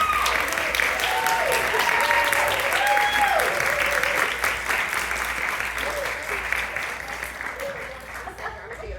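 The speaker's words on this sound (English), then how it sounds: "another round of applause" Another round of applause at a symposium keynote address: a large audience claps loudly and steadily for several seconds, with voices calling out over it before the clapping thins toward the end.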